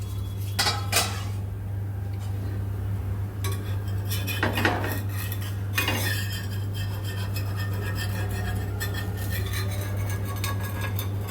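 A metal lid comes off a dosa pan with sharp clanks and scraping, close and clear, followed by further utensil rattles over a steady low hum from a gas stove.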